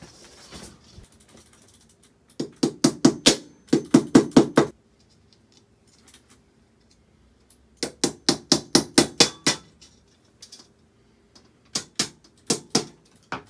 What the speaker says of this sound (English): Now, Gavin, can you give me a hammer and nail?